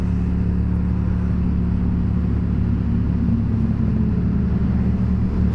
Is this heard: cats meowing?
no